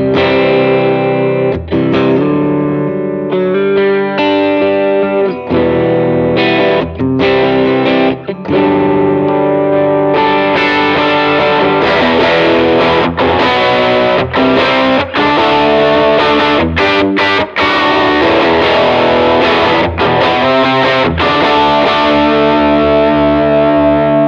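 An electric guitar played through a Strymon Cloudburst ambient reverb pedal plays sustained chords and notes washed in a thick, shimmering reverb that lingers and blends into a continuous ambient wash.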